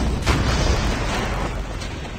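A missile explosion in Call of Duty Mobile: one sharp, loud blast at the start that fades into a dense, continuous rumbling roar.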